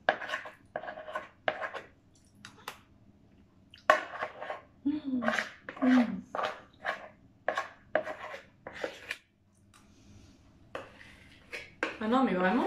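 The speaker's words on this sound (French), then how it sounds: "mais il faut faire la vaisselle." Dishes, pots and cutlery being washed, with a string of clinks, knocks and scrapes close by, irregular and fairly faint, broken up by a brief quiet spell.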